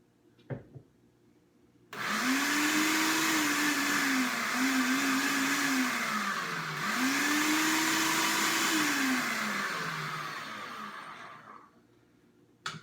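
A food processor whirs through pesto in a steady loud drone for about ten seconds, its motor pitch rising and dipping as the blades churn the thick mixture, then winding down to a stop, with faint clicks before and after.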